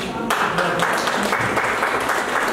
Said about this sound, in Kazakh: Мен қол шапалақты бір қағып қоямыз.